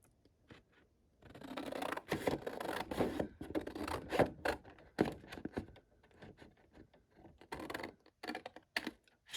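A 12x12 paper sheet is cut for a junk journal, giving close, irregular crisp snips and rustling scrapes of paper, with a few short pauses.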